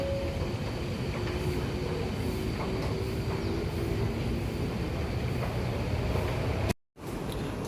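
A train pulls into Mutiara Damansara station on Malaysia's MRT, giving a loud steady rumble of rolling wheels with faint squeals. The sound is cut off abruptly near the end.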